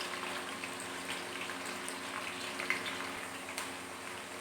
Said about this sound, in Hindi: भिंडी मेरी जो है वो बहुत अच्छे से फ्राई हो चुकी है